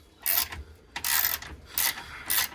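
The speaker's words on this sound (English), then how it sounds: "But this is a good ratchet right here" A hand ratchet clicks in short rasping bursts while loosening 10mm bolts on a Ford F-150 radiator, four quick strokes with pauses between them, close and alone.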